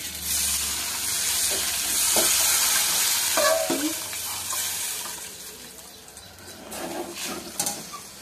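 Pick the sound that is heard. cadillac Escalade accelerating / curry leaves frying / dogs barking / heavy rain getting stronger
curry leaves frying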